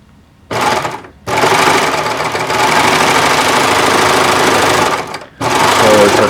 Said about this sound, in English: Always have to be careful on these sergers and home machines when it comes to this kind of stuff, because they can get in a bind in a hurry.